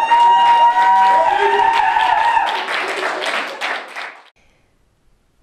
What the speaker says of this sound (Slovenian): En aplavz, prosim, lepo.